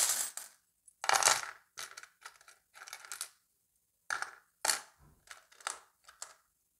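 Small metal charms picked up and dropped onto a surface, a series of sharp jingling clinks in scattered bursts with quiet gaps between them, close up and with no talking.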